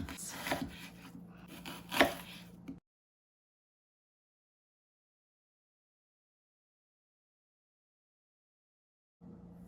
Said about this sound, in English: So we're going to cut them in half and slice them up pretty thin.